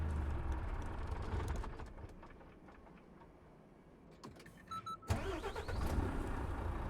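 A Renault Range T truck engine in Euro Truck Simulator 2 with a sound mod cranks with a series of quick clicks, then catches and roars to life before settling into a steady rumbling idle, heard close by.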